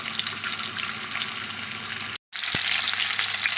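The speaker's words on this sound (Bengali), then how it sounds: "এখন আমি মুড়োগুলোকে ভেজে নেব ভালো করে ভাজবো" Fish heads fry in oil in a wok with a loud, dense, continuous sizzle close by, briefly cut by a short gap and a single clunk before the hiss resumes.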